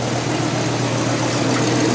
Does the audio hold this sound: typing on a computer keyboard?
no